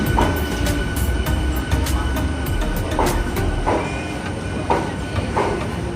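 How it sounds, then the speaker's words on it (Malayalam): A MEMU passenger train on the Palakkad–Ernakulam route rumbles at a station, loud and close, with a steady mechanical drone and a series of sharp rhythmic clacks and metallic clicks. "അങ്ങനെ ഞങ്ങൾ ട്രെയിനിനകത്തേക്ക് കയറുകയാണ്."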